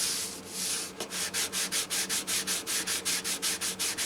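Hand sanding a finish with 400-grit paper on a foam block: a quick burst of rubbing, then a steady run of about a dozen evenly spaced back-and-forth strokes, close and crisp, with no talking.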